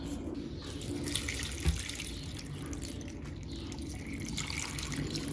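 Water splashes steadily from a tap into a cooking pan holding spinach and turnip, a continuous close pour with a small knock partway through.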